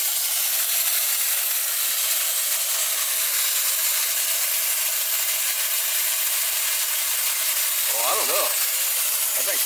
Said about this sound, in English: Well, apparently we just blew the radiator hose.